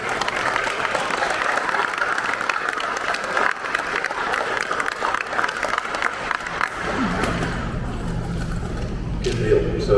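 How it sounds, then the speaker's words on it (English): Sustained applause from an audience at a community policing award ceremony in a Cincinnati music hall, a broad wash of clapping filling the room that thins out near the end as a voice begins speaking. "big round of applause to our recipients"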